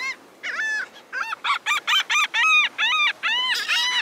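Seabirds call around a boat entering Bradenton Beach from the Gulf, with a run of loud, close, squawking cries in quick succession over several seconds.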